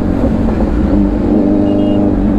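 Kawasaki Ninja H2R motorcycle engine running steadily while riding after a throttle body cleaning, a loud continuous smooth drone with rumbling low end throughout, no voices.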